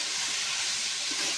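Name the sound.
washed greens poured into hot pan, sizzling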